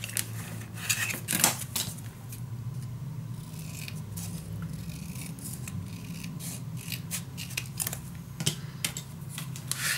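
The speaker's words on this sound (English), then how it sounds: "I'm gonna cut this in half." Scissors snipping through patterned scrapbook paper, cutting a sheet in half for a Graphic 45 Mother Goose mini album; steady close rasping cuts and rustling continue for about ten seconds, with no one talking.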